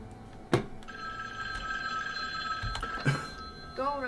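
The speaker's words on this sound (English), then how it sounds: "How does Michael Myers have a phone? That man calling up here like he ain't got no sense." Telephone ringing in a fan-made Halloween Michael Myers PC horror game, steady electronic ring tones lasting several seconds between sharper thumps, with a brief voice at the end.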